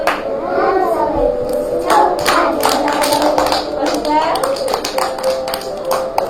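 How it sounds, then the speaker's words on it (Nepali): Children clap their hands in rhythm while singing together at a school gathering, sharp claps ringing out over young voices throughout. "हामी सबै खुसी छौँ ताली बजाउँदै"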